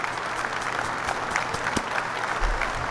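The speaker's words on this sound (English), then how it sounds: "Let's all give a round of applause to DOS 315" Crowd applause rolls on steadily at moderate volume, many hands clapping in a continuous patter with scattered sharper claps standing out.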